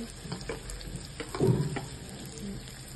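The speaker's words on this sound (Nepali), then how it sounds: "अघि रेडी गरेको मसलालाई यसैमा लाउँदैछु" Ready-made spice masala going into a frying chicken curry with tomato, a soft sizzle with a brief louder stir or splash in the middle and no voices.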